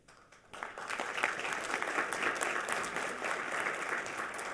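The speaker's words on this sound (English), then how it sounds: "A round of applause to all the students involved for their outstanding performances." An audience at a Fort Worth school board meeting claps for students after their performances, a dense, sustained round of applause that swells in after a quiet start and stays strong to the end.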